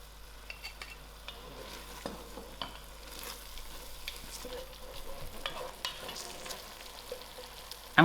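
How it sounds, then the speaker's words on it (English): Grated tomatoes with sugar and salt stirred in a hot pan: a soft, low sizzle runs under scattered scrapes and taps of the spoon, close but quiet. "I will add in my grated tomatoes to it. Give it a good mix."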